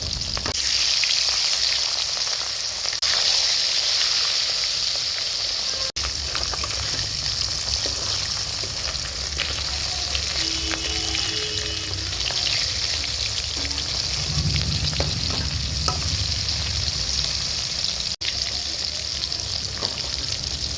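Rohu fish pieces frying in hot oil in a pan, a steady close crackling sizzle that runs unbroken throughout with occasional louder spits and faint stirring clinks.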